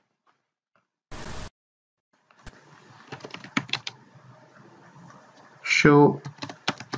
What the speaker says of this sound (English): We have to just type